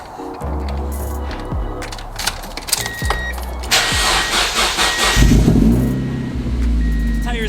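A car engine in the snow cranks with a few sharp turnover bursts, then catches and settles into a steady mid-pitched idle close by.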